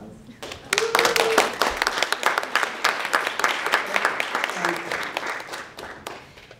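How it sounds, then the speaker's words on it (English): At a women in STEM event, a modest audience applauds a group of women, with crisp individual hand claps building quickly and continuing for several seconds before tapering off, a few voices faintly mixed in. "I just want to give these ladies a round of applause."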